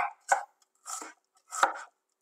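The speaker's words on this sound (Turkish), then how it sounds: "Hemen kuru soğanlarımızı da jülyen olarak ince ama uzun doğruyoruz." A knife chops dry onions into thin julienne strips on a board, three distinct crisp cuts spaced roughly evenly apart, close and clear against silence.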